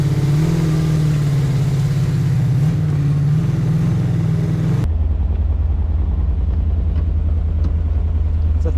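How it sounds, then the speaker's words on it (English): A 1955 Ford Thunderbird engine runs steadily just after starting, a loud, close, continuous rumbling idle that shifts to a deeper, heavier drone partway through, with no talk. "There's no way I just started the car and it's already up to 160"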